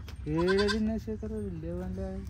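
A goat on a farm lets out a near, loud bleat with a wavering, nasal tone, followed by shorter broken bleats, while a person talks in the background.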